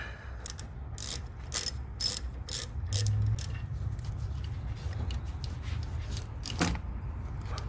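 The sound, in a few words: ratchet loosening intake clamp on SAAB turbo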